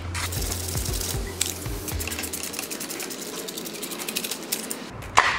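A ratchet works a bolt loose above the shift shaft on a 2021 Honda CRF110 pit bike, giving a steady, close, rapid clicking throughout with a sharper knock near the end.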